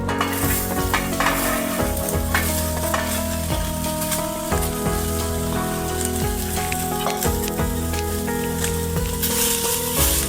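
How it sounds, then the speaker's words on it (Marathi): Onion sizzles loudly and steadily in a hot pan for a chicken curry, with frequent stirring scrapes and clinks of a spoon against the pan throughout, close up and with no talking. "व्यवस्थित असं आपण भाजून घेऊ"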